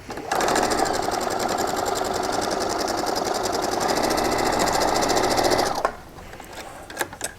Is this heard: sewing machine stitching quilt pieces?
yes